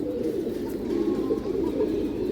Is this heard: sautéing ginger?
no